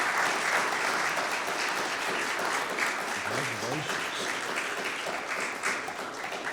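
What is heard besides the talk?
audience applause for Janet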